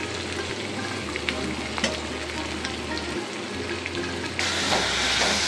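Ground coriander, cumin, turmeric and garam masala fry in a pan, giving a close, steady sizzle with scraping stirs, and the hiss swells louder near the end; no voices.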